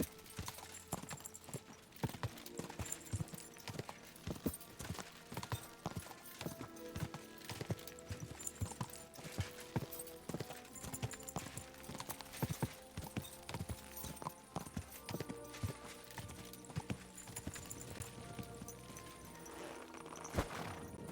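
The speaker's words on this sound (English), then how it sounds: "What a beautiful horse." Horse hooves in the medieval role-playing game Kingdom Come: Deliverance II, a continuous rhythmic clip-clop of a riding horse over a busy, dense backdrop of game sound, steady for the whole stretch with no talking.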